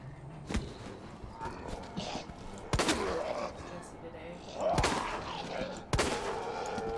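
Gunfire from the Resident Evil 2 (2019) video game: several sharp shots spaced a second or more apart, over a steady game soundscape with low rumbles.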